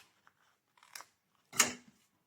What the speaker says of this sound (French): Je vais du coup enlever avec ma paire de ciseaux.